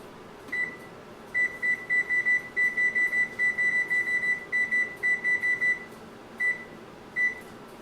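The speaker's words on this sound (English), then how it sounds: "we're going to turn the timer on 20 minutes" A kitchen oven timer set for 20 minutes sounds a steady run of short, high electronic beeps in quick pulses, with brief pauses between the bursts, over a low room hum with no talk.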